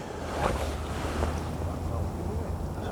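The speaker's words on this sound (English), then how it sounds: "Wind is blowing that way across lake." Wind gusting across an open fishing lake, a steady low rumbling roar with buffeting on the microphone and a faint wash like lapping water, continuous and fairly loud throughout.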